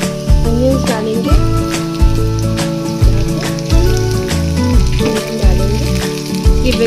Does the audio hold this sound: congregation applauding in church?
no